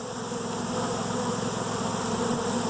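Dense, steady buzzing of many honey bees around a hive, a continuous close drone with no talk over it.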